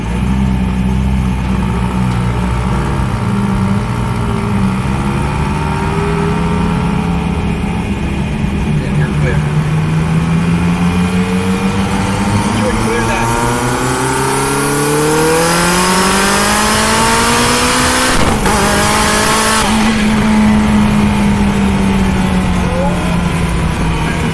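A 2021 SSC Tuatara hypercar's engine revs and builds boost, loud and close, with the pitch climbing in long sweeps and dropping briefly before steadying at a high drone, while people talk throughout.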